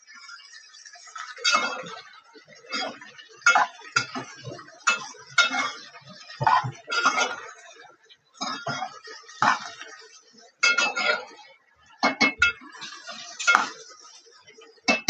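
Okra masala being stirred in a pan, with a spoon clinking and scraping against the metal in irregular bursts, close and moderately loud, with no talk.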